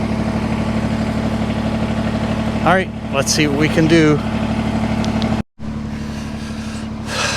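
A parked snow blower's engine idles with a steady, near mechanical drone, briefly cutting out before resuming, while someone talks over it.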